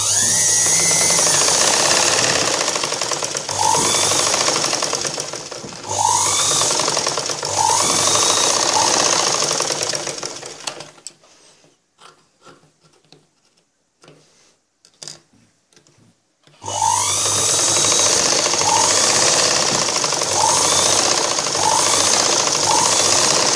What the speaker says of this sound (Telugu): కోన్ షేప్లో మడత పెట్టుకొని మనం స్టిచ్చింగ్ చేసుకోవాలి